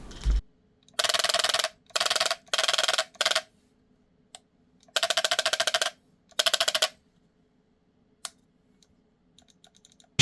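Bursts of rapid mechanical clicking from the recoil of a gun-shaped mouse controller, several rattling runs of about a second each separated by pauses, close and clear with a few isolated ticks between.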